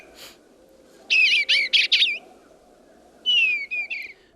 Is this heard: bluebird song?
yes